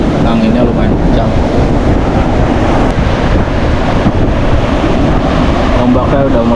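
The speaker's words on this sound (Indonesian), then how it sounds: "Ombaknya udah mulai deras." Strong surf pounds the shore at Pelabuhan Ratu beach in the late afternoon, a continuous loud roar of breaking waves mixed with heavy wind buffeting the microphone, with no clear gaps throughout.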